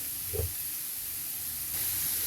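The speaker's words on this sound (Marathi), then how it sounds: "आणि छान परतून घेऊया।" Shredded cabbage, carrot, capsicum and green chili for veg momo filling stir-frying over high heat, producing a steady broadband hiss with a brief soft knock early on and a slight swell near the end.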